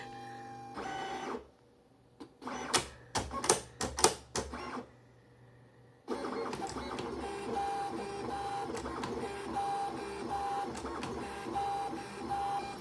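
Silhouette Cameo 5 cutting machine running: a burst of sharp mechanical clicks and whirring motor pulses, then a steady, fainter buzzing hum with a repeating high beep, close by and without voices.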